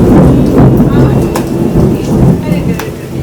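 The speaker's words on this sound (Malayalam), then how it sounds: "പുറത്ത് അതിഭീകര മഴ." Heavy rain pours outside in a dense, loud roar, with low rumbles of thunder swelling and fading beneath it and sharp crackles cutting through now and then.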